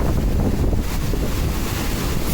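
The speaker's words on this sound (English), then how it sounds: "The wind in the air here feels like that cold, crisp, fresh feeling just before a thunderstorm strikes." Wind at Kings Canyon buffeting the microphone, a loud rough continuous rumble and roar across the whole short span with no speech.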